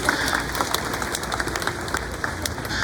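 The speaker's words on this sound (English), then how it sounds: "How about a round of applause for our volunteers?" Audience applause for volunteers at a live gathering: a steady wash of many hands clapping at moderate distance, holding evenly for a few seconds without a clear voice on top.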